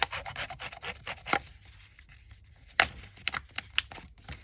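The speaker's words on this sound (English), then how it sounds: "I'm going to distress this a little bit on the top." Edges of a paper ephemera folder being distressed by hand, producing soft rasping and rubbing scrapes in short bursts with a few sharper scratchy strokes, close and fairly quiet, with no talking.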